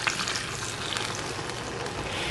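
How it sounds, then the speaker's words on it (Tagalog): Chicken frying in a pan after teriyaki marinade mixed with water is added, a dense, even crackling sizzle that stays loud and constant throughout, close up with no voices. "isasama natin ito dito sa ating piniprito na chicken"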